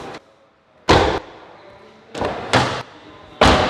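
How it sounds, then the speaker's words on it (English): Door of a 2022 Toyota Urban Cruiser Hyryder strong-hybrid SUV shutting, four loud, close, solid thuds spaced unevenly across a few seconds with quiet between them. "Opening and closing. You can hear the touch sound of the door."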